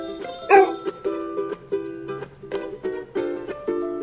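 A dog barks once sharply, set against a rhythmic musical backing that continues throughout.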